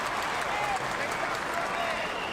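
A large crowd at an AFL football match between GWS Giants and Collingwood cheers and applauds steadily, a dense wash of clapping and roar at moderate distance beneath a commentator's voice.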